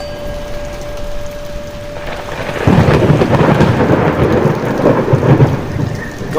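Heavy rain and rolling thunder in a video game storm, starting as a steady hiss and then swelling into a loud, dense downpour with deep rumbling after a couple of seconds, heard alone.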